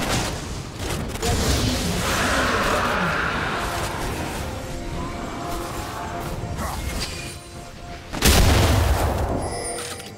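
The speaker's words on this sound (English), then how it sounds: "Blue team's turret has been destroyed." A turret crumbling in League of Legends during a Graves jungle match, heard as a long roll of loud booms, crashes and mechanical clatter with a hard fresh impact near the end.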